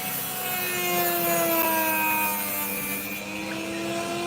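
An opal is cut and ground on a spinning wheel with a steady abrasive rubbing, a whirring tone holding level close by throughout and no voices.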